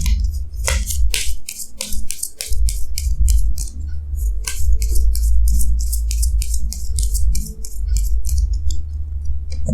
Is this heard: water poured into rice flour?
no